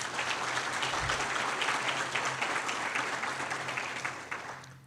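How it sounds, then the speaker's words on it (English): An audience at a city State of the City address gives a warm round of applause, many hands clapping loud and steady before tapering off toward the end. "round of applause for Adriana, please."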